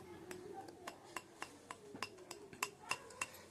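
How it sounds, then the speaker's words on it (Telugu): Cleaned mutton liver pieces go into a pan of gravy, with a string of light metallic clinks and taps against the pan at an uneven pace, faint and close. "ఇప్పుడు మనం ముందుగానే క్లీన్ చేసి పెట్టుకున్న మటన్ లివర్ని కూడా వేసుకుందాము."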